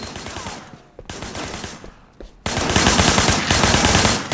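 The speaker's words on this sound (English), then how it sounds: "Shooting at the guys over there." Rapid automatic gunfire rattles in the video game Sleeping Dogs, dense bursts of shots in quick succession that grow louder and more continuous toward the end.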